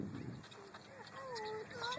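Birds on a baseball field call with short whistling chirps and coos, a few rising and falling notes over open outdoor ambience, with a voice and other talk nearby.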